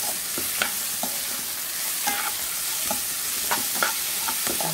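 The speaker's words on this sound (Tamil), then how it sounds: "ஆக்சுவலாக கேப்சிகம் வந்து சீக்கிரமாக குக் ஆகிடும்" Capsicum and mixed vegetables fry in a pan for egg Hakka noodles, a steady sizzle broken by repeated sharp clinks and scrapes of a spatula stirring against the metal, close and with no talk.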